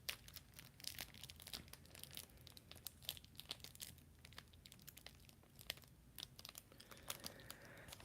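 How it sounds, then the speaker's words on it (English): Soft, close crinkling of a crumpled material runs continuously with many small crisp crackles, quiet and intimate in a late-night ASMR setting. "I'm gonna keep crinkling while I think about it."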